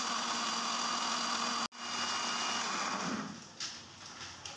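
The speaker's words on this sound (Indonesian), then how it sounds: "Kita blender sampai bumbunya benar-benar halus." A kitchen blender grinds chili spice paste with water for jackfruit rendang. Its motor whirs loud and steady, cuts out abruptly for an instant, then resumes before winding down to a lower, uneven hum.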